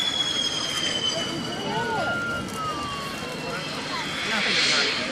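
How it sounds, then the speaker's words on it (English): Military aircraft flying a low approach with undercarriage down at the Royal Navy International Air Day at RNAS Yeovilton, a rising engine whine and rumble under a commentator's voice over the crowd. "see the aircraft coming in for a low approach"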